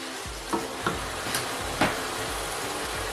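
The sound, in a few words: vegetable oil sizzling while frying stew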